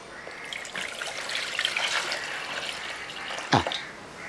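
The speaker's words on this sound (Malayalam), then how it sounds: "കുറച്ച് വെള്ളം കൂടെ അങ്ങോട്ട് ഒഴിക്കാം." Water is poured from close by onto tamarind in a bowl while making a Kerala ginger curry, a few seconds of steady trickling and splashing ending in a brief knock, with a crow cawing faintly outdoors.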